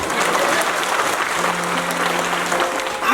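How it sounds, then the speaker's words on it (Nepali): Audience applause at a church sisters' fellowship gathering, a dense continuous round of clapping from a crowd, loud and sustained for the whole stretch. "आफै ताली बजाउनुहोस् न।"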